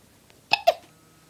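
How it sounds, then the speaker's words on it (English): Two quick, close baby hiccups in a row, sharp and clear against a quiet background. "Do you still have the hiccups?"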